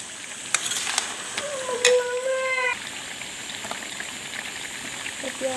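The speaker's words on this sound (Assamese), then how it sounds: "এতিয়া দি অকণমান লৰাই দিম।" A spoon stirs local chicken curry with chunks of pumpkin and potato in a pot, with soft scraping and a low bubbling sizzle close by, and a brief tonal voice-like sound partway through.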